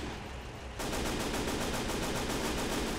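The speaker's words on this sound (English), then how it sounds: "Let the machine gun do its work." Machine gun fire in the World War II strategy game Gates of Hell: after a brief lull, a loud, sustained stream of rapid, evenly spaced shots rattles on without a break.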